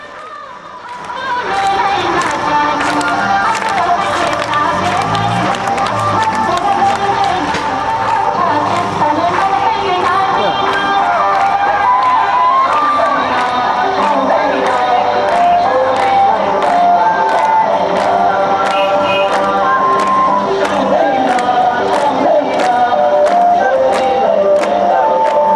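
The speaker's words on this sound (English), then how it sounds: "Another separatist demonstration for Gurkhaland." Loud, dense crowd noise of many voices chattering and shouting together outdoors at a Gurkhaland separatist street demonstration in West Bengal, continuous and busy with no quiet gaps.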